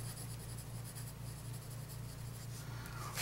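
A fine-nib auto-fill fountain pen glides across paper in a steady, continuous scratch, close and fairly quiet, with a constant low hum underneath and no talking.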